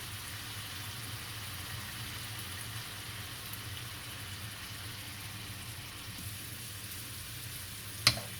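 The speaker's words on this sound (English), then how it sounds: "And ain't doing nothing but cooking some onions" Onions frying in a pan in a home kitchen, a steady close sizzle running evenly throughout with a brief clink near the end and no talk.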